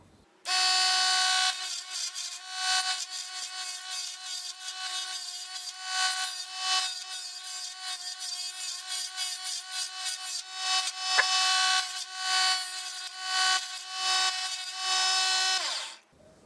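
A small $80 mini wood lathe spins a wooden workpiece while a tool cuts it. A steady, bright, whining scrape runs for about fifteen seconds, with a tonal hum underneath, and stops abruptly at the end.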